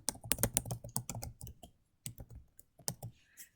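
Fingers type on a computer keyboard, entering a Bible reference search: close, crisp key clicks in quick bursts with short pauses between, with no voice.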